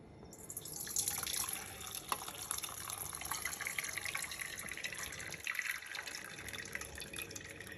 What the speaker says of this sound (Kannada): ಸರಿಯಾಗಿ ನೀರನ್ನು ಬಗ್ಗಿಸ್ಕೊಂಬಿಡೋಣ